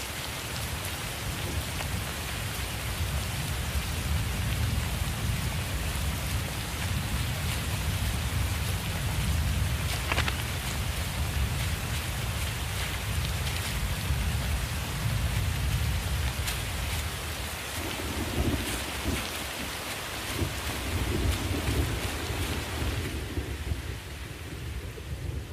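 A heavy rain downpour with thunder, a steady dense hiss of rain hammering surfaces for the whole stretch, with low thunder rumbling beneath it and no voices.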